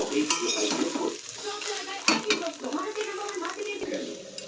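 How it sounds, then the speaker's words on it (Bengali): Chow mein with fried vegetables and chowmein masala being tossed in a pan, with steady sizzling and a metal utensil scraping and clinking, while a voice speaks faintly in the background. "আর একটু টেস্টের জন্য দিয়ে দেবো একটু চাউমিন মশলা। ভালোভাবে মিশিয়ে নেবো।"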